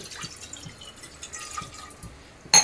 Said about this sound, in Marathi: मी अर्धा ग्लास पाणी टाकत आहे कुकरमध्ये